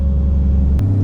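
A RAM 2500's engine drones steadily as its 68RFE automatic transmission slips, a close, loud low hum that drops in pitch with a brief click near the end.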